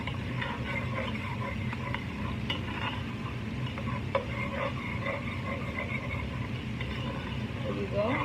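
Spices fry in a pan for paneer makhani, a steady close sizzle with soft stirring scrapes and occasional clinks of the utensil against the pan, continuing evenly throughout.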